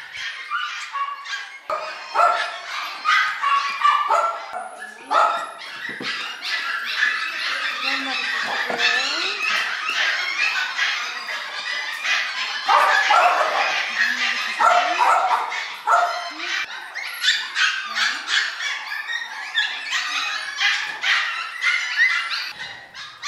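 Small puppies eagerly eating soaked kibble keep up a near-constant stream of high yips, squeaky barks and whimpers, close and lively, with brief gaps between bursts.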